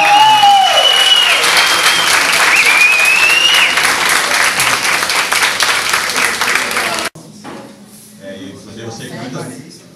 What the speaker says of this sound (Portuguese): Então recebam com muitos aplausos, Davidson Rosa!